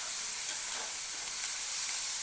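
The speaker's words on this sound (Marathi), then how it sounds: "छान परतवायचं आहे।" Onion and green tomato with turmeric and coriander sizzle steadily in a pan for egg bhurji, a close, even hiss of frying.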